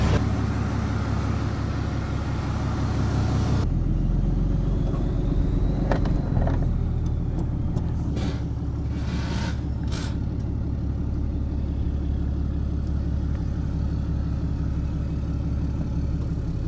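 A Ram 2500 pickup with a Cummins diesel engine backs out, its engine running loud and steady up close with a deep rumble, joined by a few brief clicks and knocks partway through.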